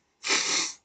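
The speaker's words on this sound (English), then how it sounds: "Sorry, I have the sniffles," A single sharp, close sniffle through the nose, lasting about half a second, from a person with the sniffles, heard alone against silence.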